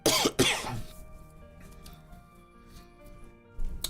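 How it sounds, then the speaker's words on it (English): Two sharp, loud coughs burst out at the start, then fade into quiet background hum, with a faint rustle near the end. "Every time I cough, my throat just gets worse."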